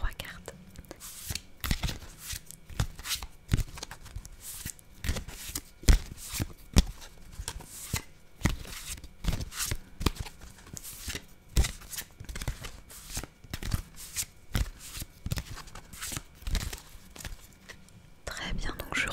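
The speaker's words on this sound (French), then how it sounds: "donc je recoupe le paquet" A deck of tarot cards is shuffled and cut by hand in quick repeated riffles and taps, crisp and close, with soft whispering heard between the card sounds.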